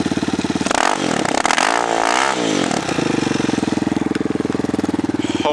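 A Hawk 250 motorcycle with a new exhaust revs hard and loud, the engine pitch climbing and falling through a couple of throttle blips before settling into a rough, steady idle.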